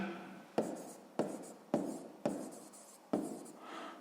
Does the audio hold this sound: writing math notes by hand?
yes